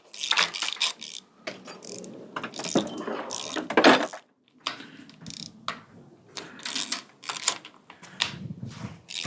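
A socket wrench ratchets out spark plugs from a small-block Ford engine in a garage, with repeated quick clicking bursts, metallic clinks and short pauses between turns, close and fairly loud.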